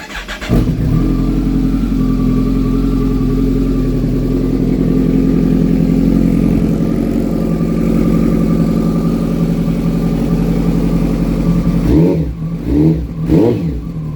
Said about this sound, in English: we're gonna go for the first start